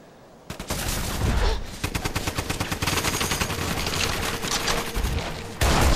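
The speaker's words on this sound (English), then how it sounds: "So much gunfire." Heavy gunfire from the video game Resident Evil 6: dense, rapid bursts of shots roll on almost without pause for several seconds, loud and close, with no talking.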